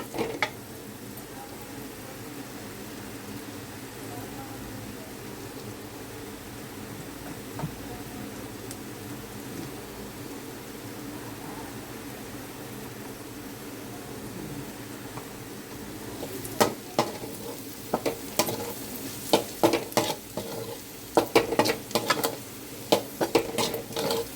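Onions frying in a pan with chili powder added for an egg and prawn curry: a low steady sizzle, then louder scraping and clinking of a spoon stirring against the pan toward the end.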